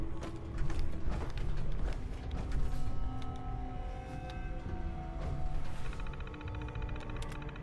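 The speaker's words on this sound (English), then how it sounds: "I don't even know what door I'm unlocking." A mechanical creaking and clicking lock mechanism as a door is unlocked in Fallout 4, with grinding, ratcheting textures layered over steady game ambience for several seconds.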